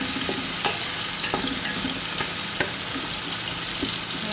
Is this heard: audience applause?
no